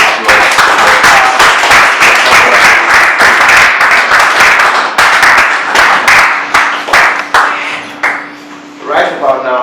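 Loud, sustained applause from an audience at an award ceremony, dense clapping that fades toward the end while a steady musical tone enters.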